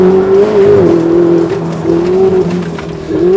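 A Ferrari 488 Spider revving steadily, its engine note dipping briefly at each rapid gear change, loud and close with no talking.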